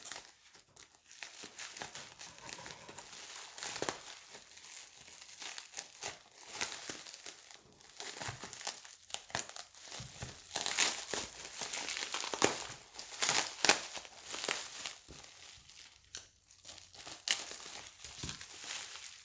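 Plastic or paper packaging around a cross-stitch accessory crinkles and tears in bursts as it is unwrapped close by, with short pauses between handfuls and no talking.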